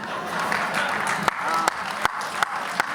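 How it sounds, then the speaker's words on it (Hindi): An audience claps at a comedy poetry recital (hasya kavi sammelan). The applause is steady and moderately loud, with a few sharp, distinct claps standing out on top of the dense crowd clapping. "तालियां थोड़ी कम बजाते हो आप यार, ऐसा नहीं चलेगा"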